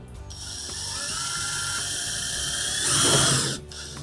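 A high-pitched electric drill whines steadily for several seconds while drilling into a table to mount a track, rising in intensity near the end before stopping abruptly.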